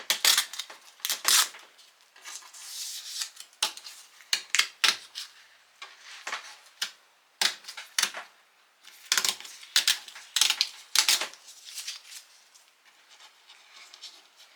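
Paper being ripped along the edge of a Fiskars ruler to give it a deckled edge, heard as a long run of quick, close tearing and crackling bursts in an uneven rhythm that fades toward the end, with no talking.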